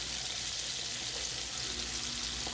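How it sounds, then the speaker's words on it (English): Tomato paste cooking in a pot for Haitian-style bouyon with turkey neck gives a steady, bright, close sizzle and hiss that runs without a break and with no talk. "we're gonna allow our tomato paste to cook for a few minutes"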